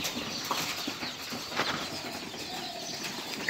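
A Giribaz pigeon takes off with a quick burst of wing flapping, close by and fairly quiet over faint background noise, ending in a sharp louder flutter.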